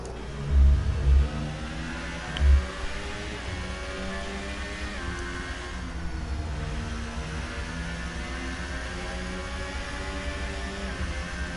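Formula One race car engines roar in the F1 2018 video game at the Spanish Grand Prix, a loud, sustained whining drone with a few heavy low thumps early on and no one talking.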